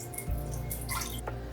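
Room-temperature water is poured into a bowl for sourdough bread dough, a steady close trickle and splash with a few drips toward the end.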